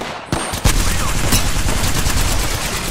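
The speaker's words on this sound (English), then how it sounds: "They're shooting at me." Gunfire in the battle royale shooter Apex Legends, a loud crack followed by sustained rapid automatic fire close by, continuing steadily to the end.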